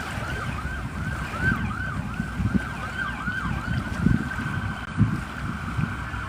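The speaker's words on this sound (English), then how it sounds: "Second ambulance of the day." An ambulance siren wails in repeating rising and falling sweeps, somewhat distant, over a low rumbling background with wind, in Navarre, Florida.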